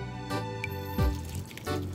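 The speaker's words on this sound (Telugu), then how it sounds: "చికెన్ బాయిల్ అయిన వాటర్ వేసేద్దాం." Chicken-boiled stock is poured onto soaked rice for Arabian chicken machboos, giving a soft, steady liquid pour with faint dripping and splashing, close by and moderately quiet over the two seconds.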